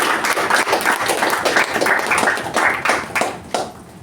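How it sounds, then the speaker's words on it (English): A Toastmasters installation-ceremony audience claps together in a steady, dense patter of many hands, fairly close, with no talk; the applause holds for a few seconds and starts thinning near the end. "let's all give Toastmaster Rachna a huge round of"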